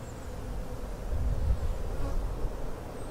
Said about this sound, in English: Go away, bee.